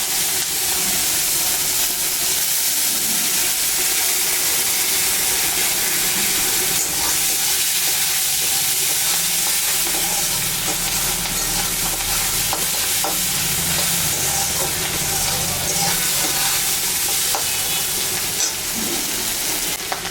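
Onions sizzle and fry steadily in hot oil over leftover fish-frying oil, tempered with dried red chillies, cumin, bay leaf and cardamom, with occasional stirring; a loud, continuous sizzle throughout, with no talking.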